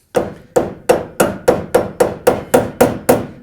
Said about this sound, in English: And then you're going to have to tap it in.